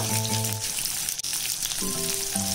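Garlic, ginger, cinnamon, cloves and poppy seeds roasting in a pan give a close, dense crackling sizzle, with a faint tonal hum fading in and out behind it.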